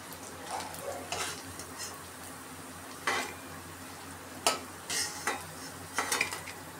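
Oil sizzles steadily in a pan while patties fry, broken by several sharp scrapes and clinks of a spatula against the pan.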